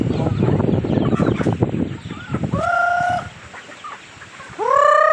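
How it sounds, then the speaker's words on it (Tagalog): Native chickens cluck and squawk close by, with a busy jumble of clucks first, then several drawn-out rising calls alone against quiet background. "Native chicken."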